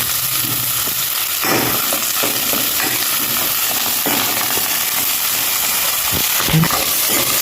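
Onion, garlic and curry leaves fry in a pan for a Mangalore-style raw jackfruit sukka, giving a steady dense sizzle throughout with a few sharper crackles and pops from the hot oil, close and with no talking.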